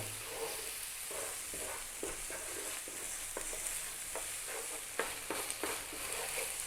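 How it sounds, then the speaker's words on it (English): Tomato paste sizzles steadily in a pan for an Italian chicken cacciatore sauce, with repeated scraping strokes of stirring scattered throughout at close range. "we're going to add in the tomato paste, and we're going to cook this out again for about another 3 minutes"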